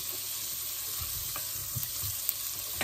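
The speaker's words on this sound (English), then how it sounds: "It's about a stick of butter, which I think is about four ounce. So we're just gonna melt that." A four-ounce stick of butter melting in a pan for Alfredo sauce gives a soft, steady sizzle, with a few faint scrapes and taps scattered through, and no talking.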